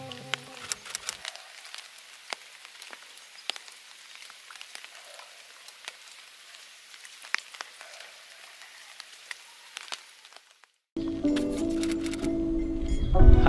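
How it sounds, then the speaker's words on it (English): Light rain patters in scattered close drops and ticks over a quiet background, then a louder burst of other noise cuts in at the end. "now you hear how it started raining again"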